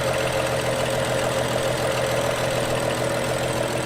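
A 2012 BMW 335i engine idling with a broken pulley and no belt fitted, a steady, slightly rough mechanical drone running continuously and close with no voices.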